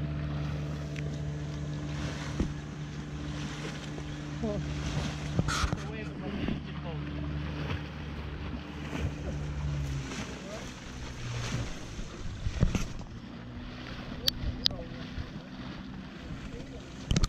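A boat on a river in the Omo Valley, Ethiopia, with a continuous engine and water rumble mixed with wind buffeting the microphone and occasional knocks.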